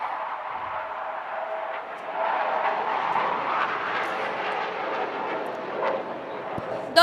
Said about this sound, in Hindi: look right ahead and we shall see 2 Hawk jets of Indian Naval Air Squadron 551 approaching us in combat maneuvers